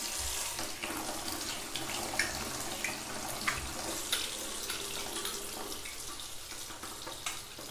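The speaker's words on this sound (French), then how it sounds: "je me lave le visage" Tap water runs continuously into a sink during face washing, a steady close hiss broken by soft splashes as water is scooped and patted.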